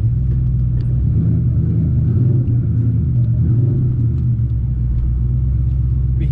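A 2003 Ford Mustang Cobra fitted with a Whipple supercharger drives along steadily, its low engine rumble and road drone constant and close throughout with no clear revving peaks.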